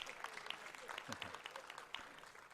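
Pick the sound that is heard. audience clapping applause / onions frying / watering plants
audience clapping applause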